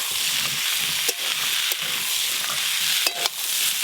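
Fried Malabar spinach stems and potatoes stirred together in a sizzling pan, a constant frying hiss broken by a few sharp scraping strokes of the spatula close by.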